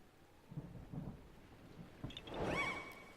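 Thunder in the Land of Thunder area of The Legend of Zelda: Breath of the Wild: soft rain patter, then a building rumble that swells into a loud rolling crack near the end.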